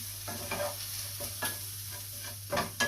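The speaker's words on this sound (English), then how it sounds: "Give that a stir." Vegetable gumbo stirred in a pan with a spoon: a handful of close scraping strokes at an uneven pace over a steady low hum, with no voices.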